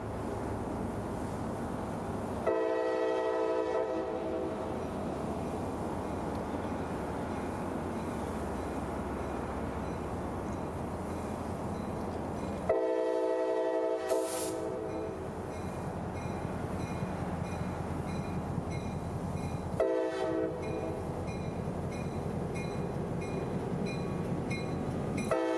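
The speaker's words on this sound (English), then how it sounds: "his massive train of 67 empty cement hoppers" A long CSX freight train of 67 empty cement hoppers rolls steadily past in Tampa, with a continuous rumble and rattle of cars and several loud horn blasts recurring through the pass.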